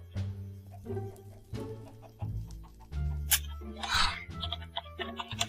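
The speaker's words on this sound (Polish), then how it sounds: "Kurczaki widzę masz" Chickens clucking in a Minecraft-style block video game, short game-audio clucks repeating over a steady tonal game soundtrack, with no talk.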